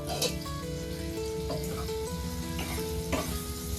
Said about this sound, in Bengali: এবার ঢাকাটা খুলে নিচ্ছি, আর একটু নেড়ে নেব।